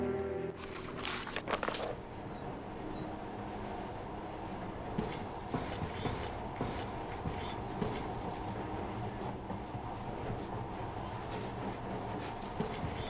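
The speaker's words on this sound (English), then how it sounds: "But now, this monorail seems magic, doesn't it?" Monorail train ride in the Metro: Last Light Redux video game: a steady rumbling rail drone with faint clicking and rattling wheels, continuous and even at moderate volume, no talk.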